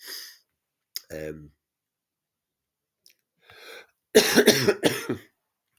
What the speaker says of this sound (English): I'm just getting a bit of a winter cough